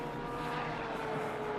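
A voice imitates a race car engine with a steady, buzzing revving drone that holds for under two seconds, close and fairly loud.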